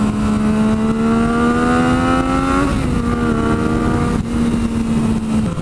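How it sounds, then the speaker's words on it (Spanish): A Yamaha FZ-09 (MT-09) motorcycle engine revs hard in standard mode, a loud, close, sustained roar with rising pitch that dips briefly and climbs again, heard alone without talk. "ahora vamos a poner el modo estándar de hecho creo que ya hasta alcanza más revoluciones"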